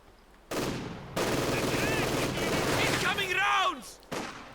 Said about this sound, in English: Other Grenadiers fought now with the light machine gun of the MG42 variant.